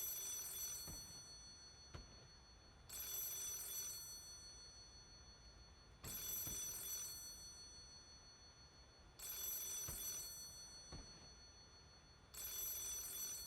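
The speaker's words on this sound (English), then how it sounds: "Ah, a phone." A telephone rings in the video game Lies of P, with five long bright bursts of ringing repeating at a steady pace and standing out clearly over a low background.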